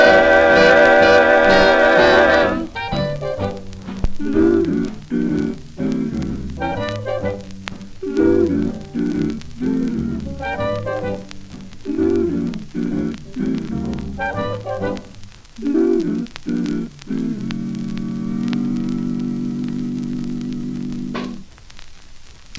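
A 1941 OKeh 78 rpm record of a vocal group singing plays through surface crackle and hiss as an old vocal group recording, with rhythmic phrases ending on a long held chord before the music cuts off.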